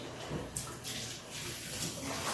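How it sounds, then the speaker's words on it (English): Hot water is poured into a 25 litre bucket in a steady, splashy rush of moderate loudness, heard alone without talk. "All I'm going to do is I'm going to put some hot water in here."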